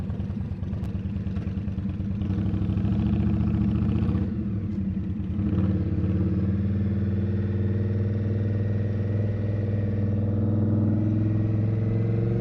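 Cruiser motorcycle engine droning steadily while riding, a loud, continuous low rumble with a brief dip partway through as the revs shift, close to the rider and free of speech.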